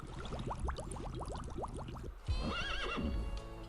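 Seahorses in The SpongeBob SquarePants Movie PC video game let out a loud, rapid whinnying neigh followed by watery, bubbly cartoon sounds, with no voices over them.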